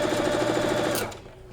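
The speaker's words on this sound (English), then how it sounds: "So again, back stitch." A sewing machine runs in a rapid steady stitching burst while back stitching a quilt border, close and loud with no talk, then stops abruptly.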